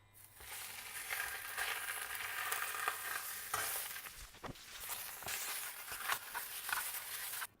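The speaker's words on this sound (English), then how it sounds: "when the pan is smoking hot, you add a little oil and you go in with the pork" Pork tenderloin sears in oil in a smoking-hot pan, giving a steady, loud sizzling hiss that runs unbroken for several seconds with small crackles and pops scattered through it.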